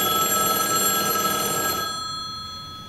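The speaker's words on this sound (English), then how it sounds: "That's a payphone." An old payphone at a ferry dock ringing, a bright electronic bell trill close and loud that cuts off and fades into quiet after about two seconds.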